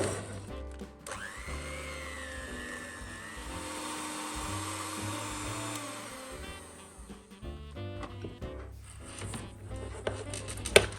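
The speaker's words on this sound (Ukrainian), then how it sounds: "Та збиваємо це міксером" An electric mixer whips caramel made with butter and cream, a steady whirring motor hum with shifting pitch as the beaters move through the thick mixture, close and continuous without talk.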